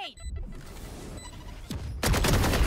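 Valorant gameplay gunfire, a burst of rapid shots erupting near the end after quieter game sounds and a brief electronic tone, loud and close.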